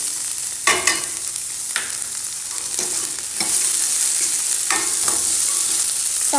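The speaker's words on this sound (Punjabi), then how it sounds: "ਹੁਣ ਮੈਂ ਸ਼ਿਮਲਾ ਮਿਰਚ ਪਾ ਦਾਂ ਫਿਰ ਇਹ ਵੀ ਨਾਲੇ ਫਰਾਈ ਹੋ ਜੂਗੀ" Capsicum tossed with vegetables in a hot frying pan, a steady loud sizzle with several sharp stirring scrapes and clacks of a utensil against the pan, no voices.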